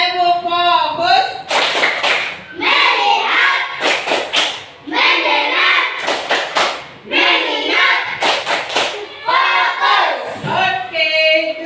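A standing primary school class runs through the 'tepuk fokus' clap routine once more, their chanted lines broken by tight groups of crisp, loud claps and a few thumps in a repeating pattern.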